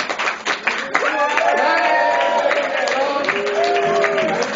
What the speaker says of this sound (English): Have the round of applause starting from this side of the room.